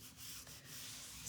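Hand rubbing a sticky transfer down onto a surface, a quiet steady scuffing friction sound heard alone.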